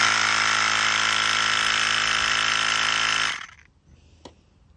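A small 2S 7.4-volt electric motor on a 40mm launcher adapted from a bicycle pump whirs loudly and steadily at close range for about three seconds, then winds down and stops, followed by a single faint tap.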